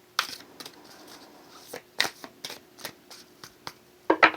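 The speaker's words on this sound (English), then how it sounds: "the amount of shuffling I've been doing today is getting on my nerves" A tarot card deck being shuffled by hand, a series of short crisp riffles and taps spaced irregularly with quiet gaps between, close and clear without talk.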